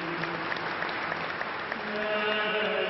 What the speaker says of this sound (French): Dès l'arrivée du cercueil, des applaudissements pour saluer l'abbé Pierre